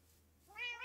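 A cat meows in a video game, a single rising, tonal meow that swells in over quiet background and stays clear and close.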